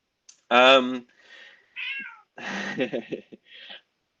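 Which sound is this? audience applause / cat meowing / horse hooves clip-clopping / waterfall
cat meowing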